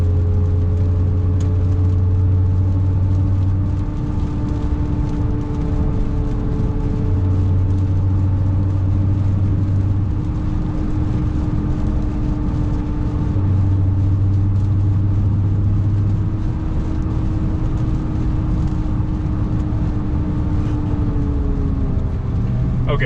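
A 2022 Dodge Charger SRT Hellcat on Toyo R888R tires drives on wet, new pavement, producing a constant loud road roar and hiss with a low engine drone underneath.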